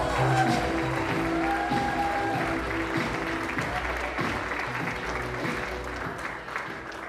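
An event audience applauds continuously, with dense clapping and some crowd noise that stays loud throughout.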